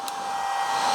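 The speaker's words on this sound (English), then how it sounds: "start the mill." Milling machine spinning up in a workshop while locating bolt-circle holes for Cub Cadet mini-dozer axle supports, a steady whirring hum that rises slightly in loudness over a second, alone with no talk.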